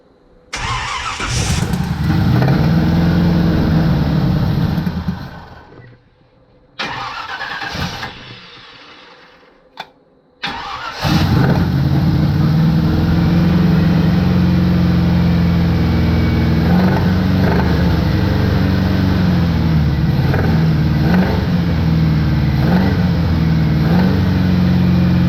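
A car engine with its freshly cleaned exhaust refitted cranks, stumbles, then catches and settles into a loud, steady idle with periodic revs rising and falling, close to the listener.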